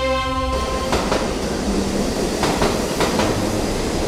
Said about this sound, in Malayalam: ട്രെയിൻ വന്നു, വേഗം വാ.